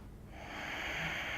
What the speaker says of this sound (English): 3 breaths here.